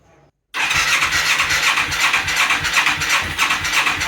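A cheap Yamaha XS400 cafe racer motorcycle engine catches after a brief quiet moment and runs loudly and close, with a harsh, raspy, uneven idle and a pulsing low rhythm under a squealing hiss.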